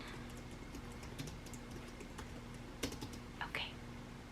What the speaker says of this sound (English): I'm just typing these in.